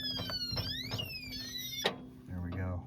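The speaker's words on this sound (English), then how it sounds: "If the safe is subject to vibration, a 1-minute alarm will be triggered." A KAER rifle cabinet gun safe sets off its vibration alarm after being shaken: a loud electronic siren of rising and falling warbling tones, with a clunk midway as the cabinet is jostled.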